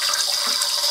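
Air and water let out of a home heating system, a loud, close, hissing gush that stays steady through the brief moment.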